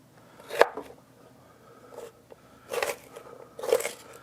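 Kitchen knife chopping celery for a macaroni salad, four or five crisp crunching cuts spaced irregularly, close and clear with no talk.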